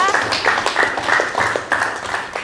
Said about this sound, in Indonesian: Tepuk tangan untuk tahap yang kedua.